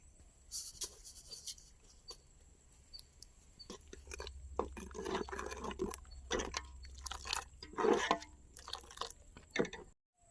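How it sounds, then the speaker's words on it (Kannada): Spiced masala water bubbles in a pan on the stove while cabbage gobi manchurian is cooked, giving a steady wet simmer with irregular pops and drips that swell louder toward the end before stopping abruptly. "ನೋಡಿ ಮಸಾಲೆ ನೀರು ಚೆನ್ನಾಗಿ ಕುದೀತಾ ಇದೆ"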